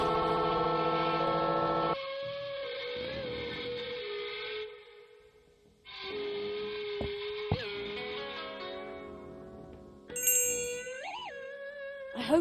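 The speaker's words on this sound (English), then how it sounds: "Let's see what happens when I hold this thing against the bell." A bell in the adventure game The Night of the Rabbit rings with long sustained metallic tones that ring out, pause and resound again, ending in a high shimmering chime.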